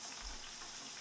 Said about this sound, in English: steaks are looking good. They're sizzling nicely.